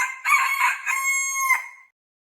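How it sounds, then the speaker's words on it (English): A single rooster crow, close and clear, a rising then drawn-out cock-a-doodle-doo lasting under two seconds before falling silent. "rooster"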